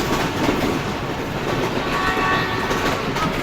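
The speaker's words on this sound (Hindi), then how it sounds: "तो फाइनली हमारी ट्रेन इसमें काफ़ी अच्छी स्पीड में मली रेलवे स्टेशन को स्किप करने के लिए जा रही है।" The Karakoram Express in winter runs at speed past a station, a loud, continuous roar of wheels and carriage rumble heard from inside a moving economy coach, with no talking.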